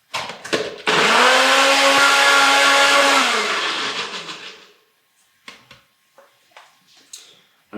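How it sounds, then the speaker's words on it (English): A smoothie blender whirs loudly as it purees baked beans and oil, running steadily for about three seconds before winding down, with a few clicks and knocks afterward. "This is just a smoothie blender"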